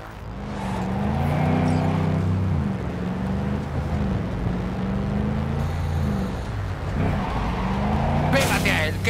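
A car engine revs and accelerates hard during a chase in the video game Cyberpunk 2077, its droning pitch rising and falling steadily under excited shouted dialogue, with a brief skidding burst near the end.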